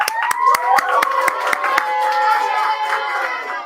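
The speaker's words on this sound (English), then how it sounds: "I think you guys should give a round of applause" Crowd at a year-end event cheers and claps together, with sharp hand claps standing out over a sustained wash of voices and whoops, fairly loud and close throughout.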